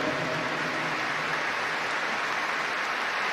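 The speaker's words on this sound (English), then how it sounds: "Rises with spontaneous applause." A stadium crowd at the Arsenal vs Chelsea FA Cup Final claps, a dense, continuous roar of applause with no breaks or standout voices.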